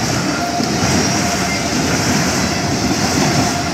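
A CSX freight train rushes fast through the Altamont, Illinois grade crossing, a loud, steady roar of rolling wheels and rail noise filling the whole stretch without a break.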